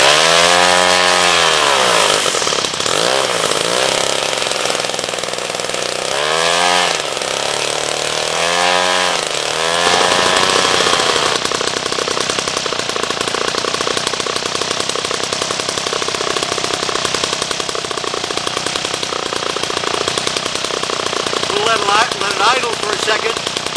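A Toni Clark G-38 gas model engine spins a propeller, first sputtering through a few rising starting bursts, then catching and settling into a loud, steady, continuous buzzing roar close by.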